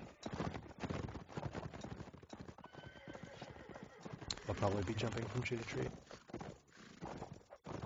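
Horse hooves clip-clopping in a multiplayer video game match, a steady rapid patter of hoofbeats under a commentator's talk, joined midway by a loud horse whinny and neighing.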